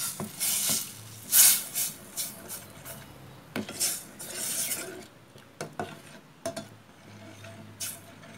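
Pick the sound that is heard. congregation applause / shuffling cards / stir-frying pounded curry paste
stir-frying pounded curry paste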